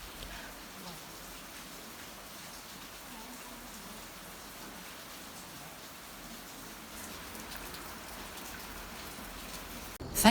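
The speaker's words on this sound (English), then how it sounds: "relax and listen to the rain" Steady rain falls in rural Vietnam, a continuous even patter on surfaces, close and moderately loud with no pauses, ending in a brief sharp noise.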